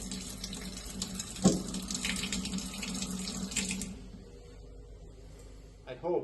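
Quooker kitchen tap running and splashing into the sink in a steady flow, then easing off near the end, with a brief knock partway through.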